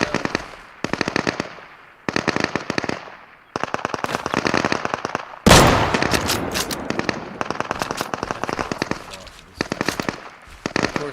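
Loud automatic gunfire from the Deadside video game rattles in rapid bursts separated by short pauses, with one especially heavy blast midway and repeated volleys continuing to the end.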